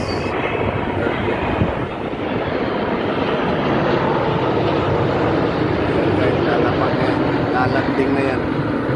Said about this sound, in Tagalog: hintayin natin dadaan yung aeroplano. Kasi malapit tayo sa airport ngayon.